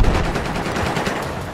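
Machine gun fire in the Battlefield 4 video game, a dense rapid burst of gunshots rattling continuously, loud and close, no talk.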